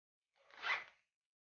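A zipper on a waist bag is pulled closed in one quick, quiet stroke, a brief soft rasp with silence before and after.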